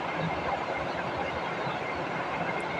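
Chopped onions fry in a pan with whole spices (cinnamon, cardamom, cloves, bay leaf and cubeb) for egg tehari, giving a dense, steady, close hiss that holds evenly throughout without pauses.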